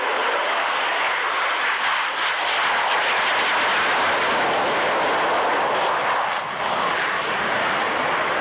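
An aircraft flies in at an airshow at Fairford in 1996 for an aileron roll, a loud, steady, broadband engine roar that fills the whole stretch with only slight swells.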